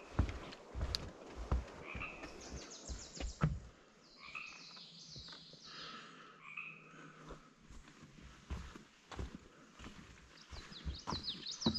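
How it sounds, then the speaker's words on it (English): Frogs croak repeatedly in a forest setting near a waterfall trail, a dense, pulsing chorus that rises and falls over some twelve seconds, with birds chirping intermittently in the background. "Why do the frogs always stop when we're near?"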